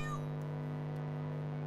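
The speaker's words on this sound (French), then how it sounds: "Oh, un petit chat." Cat in the video game South Park: The Stick of Truth giving a brief meow right at the start, then a steady low background drone for the rest.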